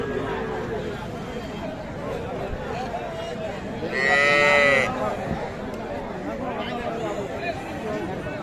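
A young Sahiwal cow at the Kaharol cattle market gives a single loud moo partway through, with men chatting and bargaining around it the whole time.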